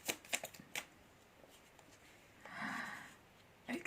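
Tarot cards being shuffled and drawn, with faint, close crisp flicks and snaps of cards and a soft sliding shuffle in a quiet room.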